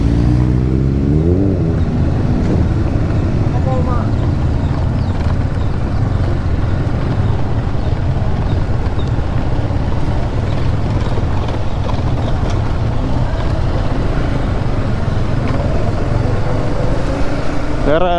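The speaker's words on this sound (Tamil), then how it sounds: "எல்லாம் கிளம்புறதுக்கப்புறம் வராங்க சூப்பர் பைக்" Superbikes ride past at a bike rally, a steady loud engine drone with rising revs running throughout, heard close from a moving rider amid wind rush, with talk mixed in.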